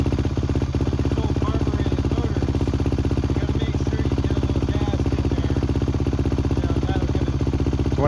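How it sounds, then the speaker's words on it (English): A kick-started motorcycle engine runs steadily just after firing, a loud, close, continuous chugging idle with a fast even pulse and mechanical clatter, no talk. "after about 2 kicks, it fired right out"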